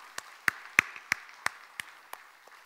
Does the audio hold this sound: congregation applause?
yes